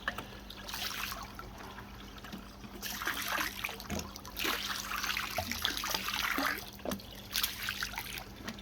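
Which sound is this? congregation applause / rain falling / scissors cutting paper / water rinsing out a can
water rinsing out a can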